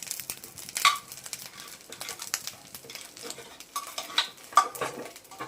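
Chillies and chana dal fry and get stirred in a pan, with a steady low sizzle under repeated scraping and clinking stirs, a couple of louder spoon knocks standing out.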